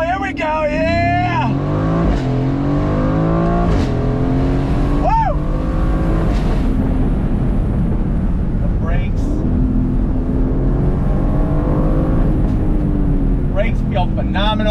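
A 2021 Aston Martin Vantage Roadster with a 503-horsepower twin-turbo V8 accelerates in track mode, engine pitch climbing and dropping through paddle-shifted gear changes at close range, with an excited voice talking over it.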